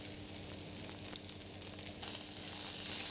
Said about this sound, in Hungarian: És forró serpenyőben körbesítjük minden oldalát.